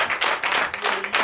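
Church audience clapping to welcome a guest at a deliverance and prophecy night, a loud, close burst of many hands in brief uneven waves.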